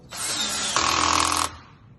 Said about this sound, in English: you want to go tight with your drill, like clockwise